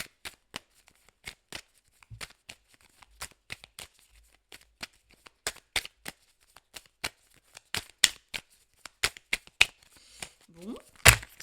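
A deck of motivation cards is shuffled by hand, a run of crisp riffling snaps and taps, near and fairly loud, with a faint voice near the end.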